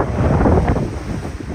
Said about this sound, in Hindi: काफ़ी ठंडी हवा चल रही थी